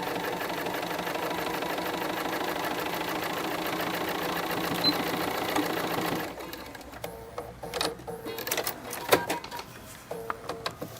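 A sewing machine back stitches along the sides of a fabric face mask, running in a steady, loud mechanical drone for about six seconds, then falling into short, uneven bursts of stitching broken by pauses and small clicks.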